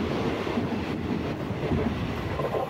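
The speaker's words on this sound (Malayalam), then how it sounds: "അങ്ങനെ ശബരി എക്സ്പ്രസ്സിനെ നമ്മൾ സ്പോട്ട് ചെയ്തിരിക്കുകയാണ്." Sabari Express passing through Paravur railway station, a steady loud rumble of wheels and carriages rolling by continuously at close range, with no talking.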